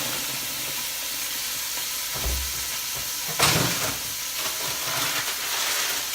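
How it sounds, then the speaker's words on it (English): Steady crackling sizzle of turkey breast steak frying in a pan, with a louder burst of hissing partway through and some clinks of stirring. "you can hear that little sizzling noise."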